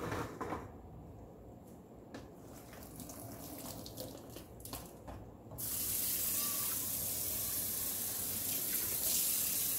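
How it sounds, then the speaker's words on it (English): Cold tap water runs into a kitchen sink to rinse freshly boiled and strained food, starting as a faint trickle and then turning into a loud, steady gush about halfway through. "we're gonna strain it and rinse it with cold water"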